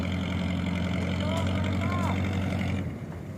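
Motor jukung river taxi boat engine idling on the Musi River in Palembang, a steady low rumbling drone close by that softens near the end, with faint voices over it.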